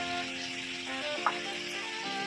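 Mutton dusted with turmeric is stirred in a frying pan, a constant close sizzle with one brief scrape of the spoon partway through. No voices are heard.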